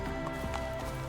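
A horse gallops in the game The Witcher 3, a brief run of quick hoofbeats heard under faint background sound.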